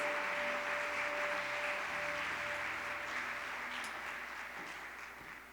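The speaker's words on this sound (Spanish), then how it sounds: "La recibimos con un aplauso." A women's church meeting audience applauds to welcome a pastor, a steady dense wash of clapping that holds loud and then slowly fades toward the end, with a faint steady tone underneath.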